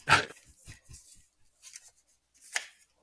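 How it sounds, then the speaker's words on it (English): A small dog barks in a quick burst, one sharp loud yap followed by several softer short yips and a final bark, close by with quiet gaps between. "I'm trying to figure out how I can get my little doggy not to bark anymore"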